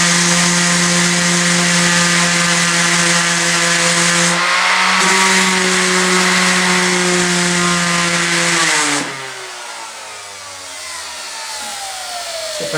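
Power tool driving 50 grit sandpaper against a wooden harp frame, a loud continuous high whine with steady tones that drops in pitch and loudness near the end as it slows.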